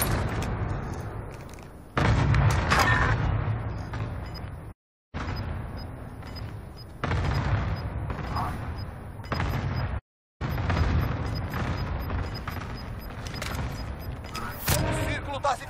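Gunfire and thudding impacts from the battle royale video game Call of Duty Warzone, loud bursts scattered through the stretch with brief silent gaps, heard amid continuous game noise.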